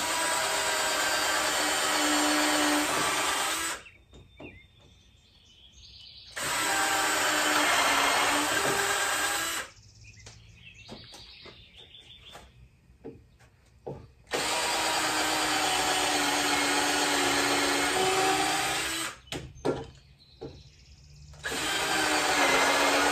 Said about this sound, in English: Use my countersink bit.